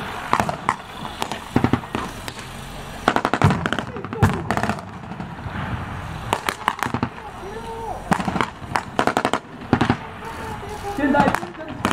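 Weapons fire during a Taiwanese army armored brigade defense drill: repeated bursts of sharp cracks, some close and loud, some in rapid clusters, continuing across the whole stretch with voices faintly in the background.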